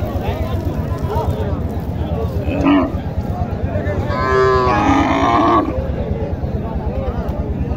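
Cattle at a busy livestock market in Naogaon, Bangladesh, with one long, loud moo rising midway through a continuous backdrop of crowd chatter and voices.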